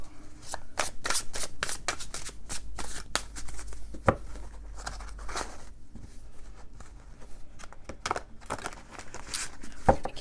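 Tarot cards are shuffled by hand in repeated quick riffles and slides, close and crisp, with a low hum underneath and occasional soft knocks.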